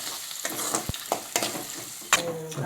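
Onions and garlic frying in a pan for masala rice, a soft sizzle broken by occasional stirring clicks and light scrapes, fairly quiet.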